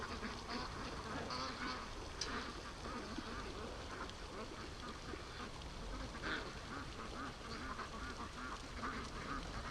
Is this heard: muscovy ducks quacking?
yes